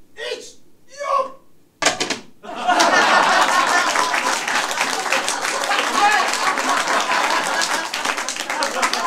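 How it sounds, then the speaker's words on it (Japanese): An audience at a live comedy stage show bursts into applause after a plate-spinning stunt, following a brief countdown voice and a sharp exclamation, then sustained crowd clapping with some laughter. "止まったら拍手"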